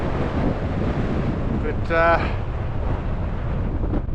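Steady wind buffets the microphone beside Lake Torrens, a salt lake in the South Australian outback, making a loud rumbling roar, with a brief spoken word partway through.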